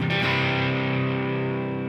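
An electric guitar played through a Line 6 HX Stomp with a delay effect rings out as one sustained, distorted chord that slowly fades, loud and close.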